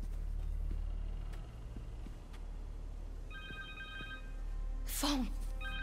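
A cell phone in Marvel's Spider-Man 2 rings near the end with a steady electronic ringtone over a low game ambience, alongside a sharp swooshing burst.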